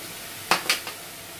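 Enoki mushrooms and pea shoots stir-fried over high heat in a pan, with three quick scraping clatters of a spatula against the wok over a faint background hiss.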